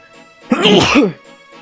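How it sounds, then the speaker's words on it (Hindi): A single loud human sneeze bursts out abruptly and fades within about half a second, standing alone over faint background noise with no talking around it. "1 मिनट रुको, छींक आ रही है।"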